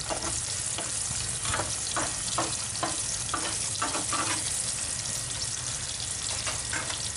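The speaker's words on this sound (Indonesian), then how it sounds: "Jadi langsung sekaligus 2 telur men. Kita tunggu agak masak sedikit telurnya" Two eggs fry together in a pan, crackling with a constant close sizzle while a spatula scrapes and taps in a loose repeating rhythm.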